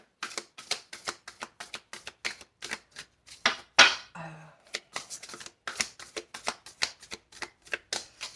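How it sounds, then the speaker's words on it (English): Rapid, repeated riffling and slapping of a large, stiff tarot deck being shuffled, close and crisp, with a brief rustle in the middle. "These cards are really hard, like they're really big, so it's hard to shuffle."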